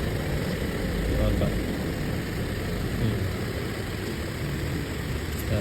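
A car engine freshly fitted with new spark plugs idles steadily and evenly, a smooth continuous hum with no stumbling, heard up close in a garage setting.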